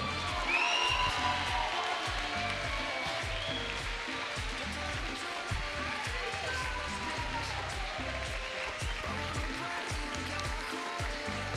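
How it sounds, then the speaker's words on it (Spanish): An audience applauds and cheers in tribute to a basketball champion: a steady, dense wash of clapping and crowd noise that holds at an even level throughout, with no clear single voice. "¡Fuerte el aplauso para Trindade!"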